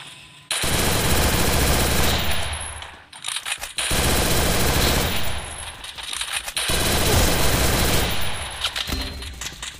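Rapid automatic gunfire from the video game Garena Free Fire, loud sustained bursts of shots separated by short pauses across the whole stretch.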